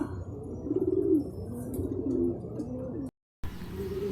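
Soft, low pigeon coos repeat close by over faint background noise, then cut out briefly before the ambience returns.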